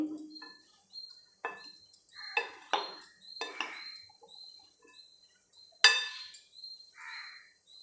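Cauliflower masala is stirred in a bowl, with a spoon clinking and scraping against the dish in irregular, distinct taps and scrapes, close and fairly quiet.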